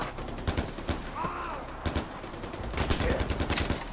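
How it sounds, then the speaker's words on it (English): Video game gunfire in Far Cry 4, aimed at the player: dense bursts of rapid shots and fusillades that come in clusters and stay loud and close from start to finish. "Why am I getting shot at?"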